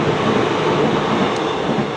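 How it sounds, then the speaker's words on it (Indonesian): A fast train rushes past close by in a steady, loud broadband roar with faint rail clatter, continuous throughout and easing slightly at the end. "Ada kereta lagi kan, kereta cepet banget nih."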